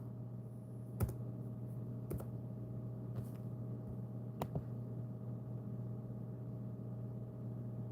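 Sparse, faint key presses on a computer keyboard during a livestream, a few isolated clicks over a steady low electrical hum, with no talking.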